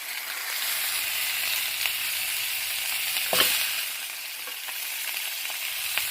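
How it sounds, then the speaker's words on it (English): Beef short ribs sear in a hot pan, giving a steady, loud sizzle and crackle that holds throughout, with one brief spoon scrape partway through and no talking. "You want them to get a nice crust on them and a nice sear."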